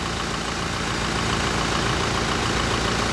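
Manual diesel engine of a Toyota Hilux G 4x4 double-cab pickup idling, a steady, dense rumble heard close up and unbroken for the whole stretch, with no talk over it.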